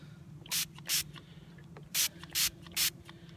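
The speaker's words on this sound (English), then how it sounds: "I'm gonna spray it down." Five quick hissing bursts from a spray bottle spraying drum-meat catfish bait, irregularly spaced, close and crisp over a quiet low hum.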